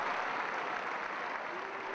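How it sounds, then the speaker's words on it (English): Home football crowd at a Brentford match applauds an injured player, a distant, steady wash of clapping across the stadium, fairly faint. "The applause from the home supporters who acknowledge the severity of that injury."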